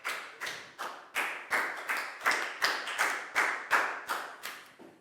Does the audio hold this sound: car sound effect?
no